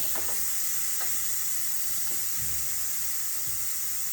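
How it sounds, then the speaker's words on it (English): Steam hisses steadily from the manually opened release valve of a pressure cooker making butter chicken, a constant loud rush with faint clicks underneath. "we're just gonna press our button here to manually release the steam and let that go all the way out"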